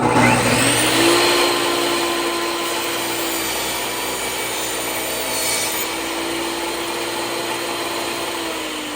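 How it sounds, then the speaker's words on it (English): A freshly re-bladed power saw cuts through scrap wood for a shelf, a steady loud whine with a constant hum that runs unbroken for the whole stretch, close up and with no talking. "And we need power on the power saw."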